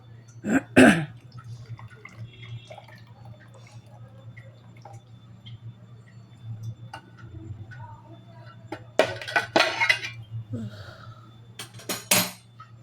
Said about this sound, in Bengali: দেখো মাটির ভাঁড়ে চা ছাঁকছি